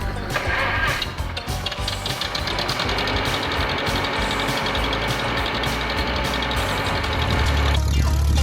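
A John Deere two-cylinder tractor idling on a farm, giving a steady, close, rumbling engine drone with a regular knocking pulse that continues throughout and grows slightly heavier at the end.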